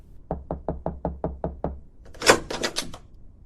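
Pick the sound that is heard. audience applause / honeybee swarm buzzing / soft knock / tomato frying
soft knock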